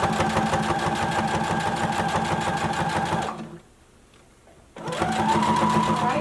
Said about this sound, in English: So begin sewing, back stitch, and continue sewing until you get to the other end of the waistband.